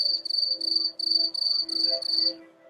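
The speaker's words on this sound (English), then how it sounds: "Crickets." Crickets chirp in steady repeated bursts far out in remote countryside, a shrill pulsing trill that stops near the end, with a low hum underneath and no talking.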